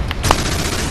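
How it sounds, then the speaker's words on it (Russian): Gunfire in the shooter game Mothergunship: a dense, steady rattle of shots that runs the whole second, with one sharper, louder crack near the start, played close and alone. "Кто вообще стреляет?"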